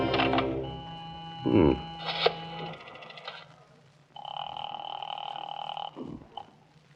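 An old-time radio drama telephone effect from 1948: a bell rings in a couple of sustained bursts, mixed with clunky handling noises and a brief voice early on.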